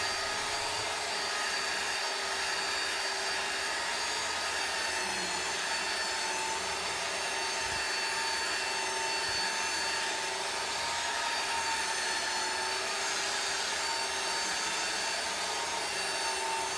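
A power sander whines continuously on a padauk and tiger maple wood box, a steady buzzing drone with occasional light knocks, no talking.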